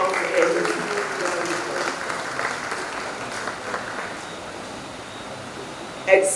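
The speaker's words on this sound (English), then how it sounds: "Give a round of applause for him." Audience clapping at a memorial lecture, honouring the designer of commemorative plaques, rises briefly and then thins and fades to a soft patter, ending with a sharp thump near the close.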